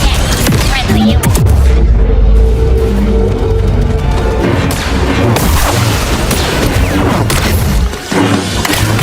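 A grenade blows up in Star Wars Jedi: Survivor, a loud, heavy boom inside a dense, constant mix of combat noise and rumble that stays intense throughout.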